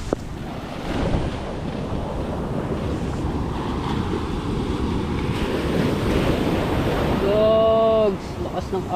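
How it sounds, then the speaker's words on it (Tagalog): Strong ocean waves surge and break on a beach in a continuous loud rumble, with heavy wind buffeting the microphone and a short voice near the end. "Lakas ng alon."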